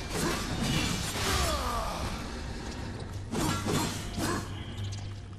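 Furniture smashed apart in the video game Darksiders, with crunching, splintering crashes and whooshing swings in quick bursts over a constant low game hum.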